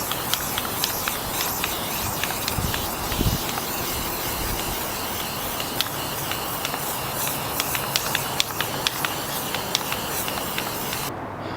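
Aerosol can spraying bed liner coating onto a homemade go-kart pedal plate outdoors in the sun, a steady hiss running throughout with faint clicks and rustles behind it.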